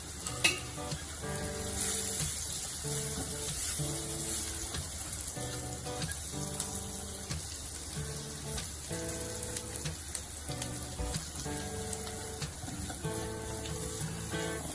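Chopped onion frying in a pan with turmeric, coriander powder and cumin powder, a steady loud sizzle with stirring scrapes throughout, no talking.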